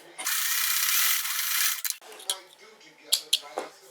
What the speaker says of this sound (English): now I'm going to just trim this excess fabric off